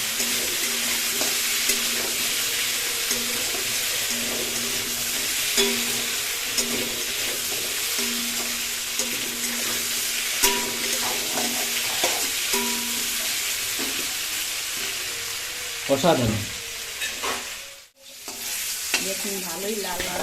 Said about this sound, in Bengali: যতটা আমরা এটা ভাজবো ততটাই মাংসের স্বাদটা ততটাই গাঢ় হবে আর আমরা এখানে গ্যাসটা বাড়িয়ে দিয়েছি